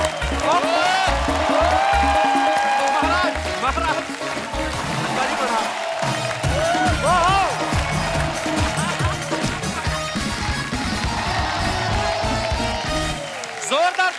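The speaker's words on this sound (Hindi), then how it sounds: "जोरदार तालियां हो जाए अनुपम सर के लिए" Studio audience applause on a comedian's comedy talk show, a sustained wash of many hands clapping throughout, with loud voices speaking over it.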